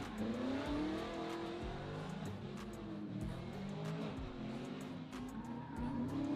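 At a drifting competition, drift cars battle in a lead-and-chase run, a Camaro among them, with engines revving in rising and falling pitch under long tire squeals and skids, loud and continuous.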